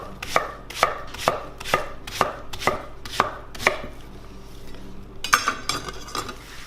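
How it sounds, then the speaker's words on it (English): Zucchini being chopped into chunks on a wooden board, a steady run of sharp knife strikes about one every half second, close and clear with no talking, ending with a brief scraping clatter. "We're going to quarter it and chop it into nice little chunks."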